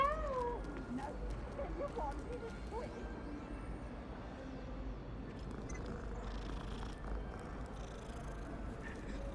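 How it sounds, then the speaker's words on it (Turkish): A cat in the Hogwarts Legacy video game meows and purrs quietly beneath steady game background sound, with a few brief meow-like calls early on and a soft continuous rumble throughout. "Bir oyunda kedi varsa güzeldir ya"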